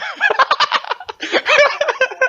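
A giant chicken in a video game gives a rapid burst of loud clucking and gobbling calls, close and alone, with a brief pause midway before the squawks resume.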